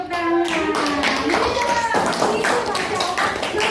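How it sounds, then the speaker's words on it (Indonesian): A group of children in a classroom claps hands in a lively burst of quick, close slaps while voices talk and call out over the clapping. "Siap tepuk tangan"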